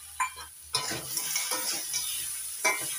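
A pan of mixed vegetables with drumsticks and fried lentil dumplings (bori) is being stirred. A few quiet scrapes and a soft sizzle sound nearby, with no voices.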